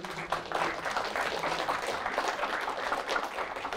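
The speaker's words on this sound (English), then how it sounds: "All right, applause first." An audience at a C++ programming conference talk applauds, a dense, even patter of clapping from many hands that holds at a steady level throughout.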